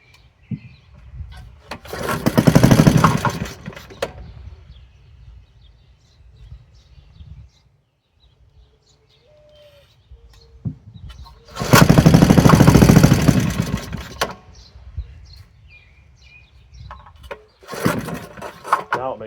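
An old 1950s Briggs and Stratton model 6S small engine cranks in loud, rough bursts that sputter briefly and die between pulls, with someone talking quietly in the gaps.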